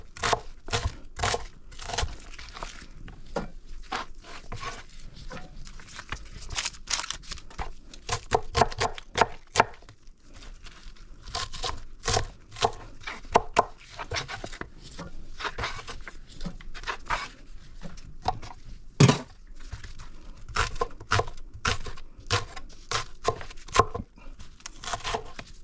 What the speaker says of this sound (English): Rough chop on the onion.